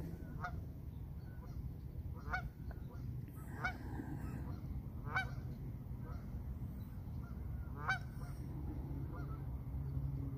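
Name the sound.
ducks honking after landing on the water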